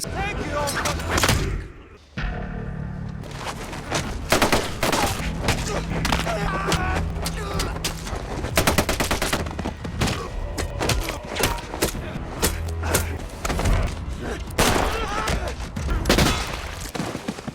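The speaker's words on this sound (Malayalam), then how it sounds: "ആ പട്ടാളക്കാരുടെ തോക്കിൽ നിന്ന് വെടി കൂട്ടുന്നുണ്ട്" Bursts of gunfire from soldiers' guns crack repeatedly over a busy, loud action movie soundtrack with thuds and booms, shots coming in rapid clusters throughout.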